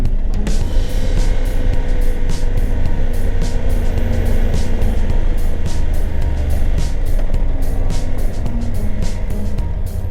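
A car drives slowly along a foggy mountain road toward Pang Oung in Mae Hong Son, with a steady close engine and road rumble running throughout and no talk.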